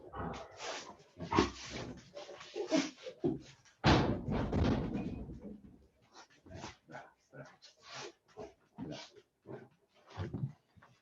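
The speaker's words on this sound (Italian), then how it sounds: "faccio entrare il cane, se no mi disturba" A dog is let into a room, with a door slamming loudly near the middle and brief dog sounds among close indoor talk and household noise.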